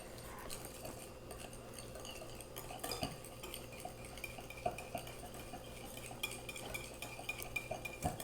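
Salt and sugar are stirred together for a Chicago thin crust pizza dough, a utensil clinking and scraping against a bowl in quiet, continuous strokes, close up and without talk.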